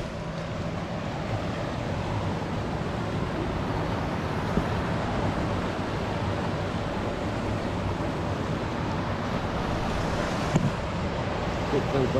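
Water runs steadily near a dam, a continuous broad rushing roar that stays fairly loud and even, mixed with outdoor wind.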